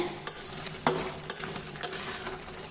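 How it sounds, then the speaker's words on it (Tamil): Tomato thokku stirred in a pan over high flame, a steady sizzle with four sharp spoon scrapes against the metal at a regular pace, close and alone without talk. "ஹை ஃப்ளேமில் வச்சு கைவிடாமல் கிண்டிக்கிட்டே இருக்கேங்க"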